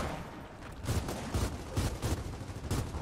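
Sniper rifle fire in Gears of War 4, a few loud, broad cracking bursts spaced about half a second apart, each smeared like several rounds at once.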